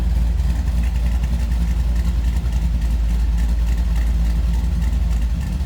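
A 1979 Chevrolet Camaro restomod idles with a lumpy aftermarket cam through shorty headers and true dual exhaust, a loud, deep, rhythmic loping rumble that stays steady and close throughout.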